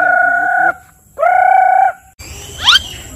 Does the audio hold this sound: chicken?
yes